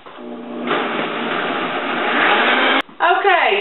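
A blender grinds sugar-free, low-carb strawberry dressing with a loud, steady whir that rises slightly when it speeds up. It cuts out briefly, then restarts with a revving whine.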